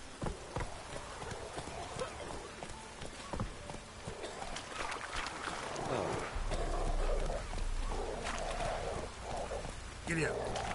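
A horse gallops in The Witcher 3 with steady clip-clop hoofbeats under faint ambient insect buzz, and a voice speaks briefly over it.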